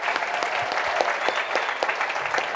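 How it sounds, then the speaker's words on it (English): Conference audience in London applauding together, a dense sustained wash of many hands clapping at close range, steady throughout with no voices standing out. "London, give yourselves a clap."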